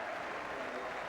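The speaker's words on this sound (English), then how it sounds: "And some very, very healthy applause from the biggest crowd of the season here" Applause from a large crowd at a Luton Town football match against Aston Villa, a dense steady roar of clapping from the stands, loud and continuous throughout.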